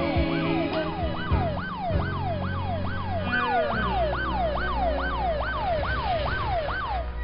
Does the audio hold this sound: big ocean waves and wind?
no